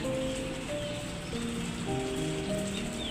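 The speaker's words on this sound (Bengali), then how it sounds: "বাহিরে বৃষ্টি পড়তেছে" Steady rain falls outdoors, a continuous soft hiss of drops that holds at an even level for the whole stretch, with no voices.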